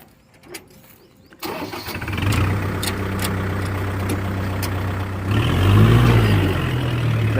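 A Kubota tractor hauling soil starts up and pulls away, its engine rising from a quiet start into a steady, close, loud rumble that swells further toward the end, with no voices.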